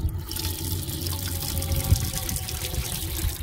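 Cold water runs from a micro-switch tap into the small sink of a Peugeot Partner micro campervan conversion, a steady close pour with a faint rising fill that continues without a break.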